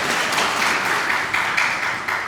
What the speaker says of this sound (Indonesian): Tepuk tangan yang meriah bagi beliau bertiga.